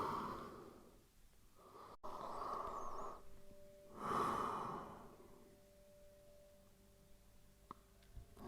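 Slow breathing during a yoga extended child's pose: soft audible inhales and exhales in long swells with pauses between, close and quiet, no talk.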